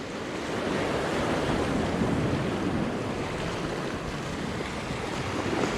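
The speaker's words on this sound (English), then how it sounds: "Look how the tide's going in this way versus how it normally goes sideways." Ocean tide surges over rocks along the shore, a continuous broad wash of surf with wind buffeting the microphone, steady and fairly close throughout with no talking.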